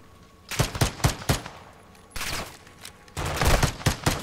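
Gunfire in the video game Modern Warfare 2, with close, loud bursts of rapid shots in three clusters separated by brief pauses and no talking.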